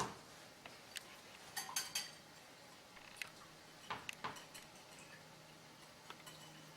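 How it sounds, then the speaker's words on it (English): A whisk stirring apricot preserve stir-fry sauce in a bowl, quiet irregular clinks and light taps against the side, close but faint over a soft background. "you're just going to whisk it up"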